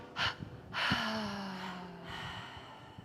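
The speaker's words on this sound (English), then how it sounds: "And then double exhale through the mouth." A soft gasp followed by a long double exhale through the mouth after a held breath during a guided yin yoga nidra session, breathy and close with a faint low hum beneath.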